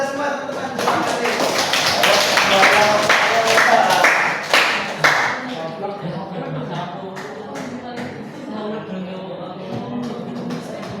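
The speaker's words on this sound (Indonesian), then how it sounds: "Tepuk tangan untuk kita semua teman-teman" A classroom of students claps together in a brief burst of applause, with taps and shuffling, before the clapping fades and a teacher's voice carries on over the room.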